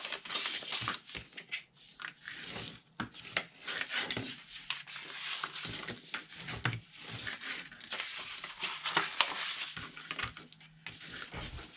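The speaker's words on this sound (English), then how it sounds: "once our scores are folded and burnished" Scored cardstock is folded and burnished by hand, giving faint, close, continuous rubbing and crisp scraping strokes with soft paper crinkles.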